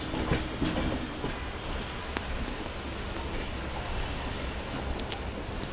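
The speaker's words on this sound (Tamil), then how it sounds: "நம்மளோட ட்ரெயின் பார்த்தீங்கன்னா இப்போது பிஃபோராகவே கேஎஸ்ஆர் பெங்களூருக்குள்ள என்ட்ரன்ஸ் ஆகிடுச்சுங்க" Passenger train from MGR Chennai Central rolling into KSR Bangalore, a steady broadband rumble of wheels and carriage noise with faint rhythmic clatter and one sharp click near the end, heard from on board.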